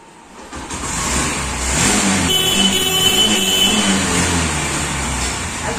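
A second-hand motorbike in showroom condition with about 15,000 km on it starts up, then idles and runs steadily, loud and close, with no one speaking.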